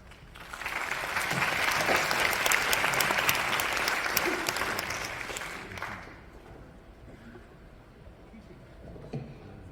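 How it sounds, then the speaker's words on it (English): An audience at a university graduation ceremony claps to welcome the alumni chapter president, building to dense sustained applause, then fading to a quieter room after about six seconds. "Please welcome Mr. Wouter Vanies, President of Alumni Chapter, with an applause"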